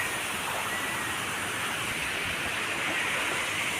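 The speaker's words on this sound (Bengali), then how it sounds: "একটা পাতলা জলের ঝর্ণা, অল্প জলের ঝর্ণা" A thin, low-volume waterfall at Dawki in Meghalaya pours down from a height, giving a steady, even hiss of falling water with no talking over it.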